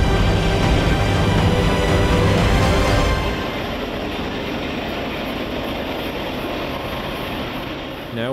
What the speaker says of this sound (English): Now we see another BNSF manifest heading uphill